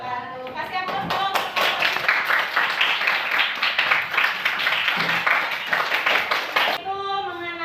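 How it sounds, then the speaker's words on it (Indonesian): Applause from a classroom audience, a dense burst of many hands clapping that rises fast and holds steady for several seconds before stopping abruptly, with a voice talking briefly at the start and end. "Kasih aplaus dong."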